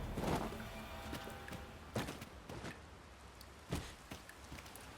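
Steady rain hiss in Dragon's Dogma 2, a soft continuous wash with scattered dull thumps and footstep-like knocks breaking through at intervals.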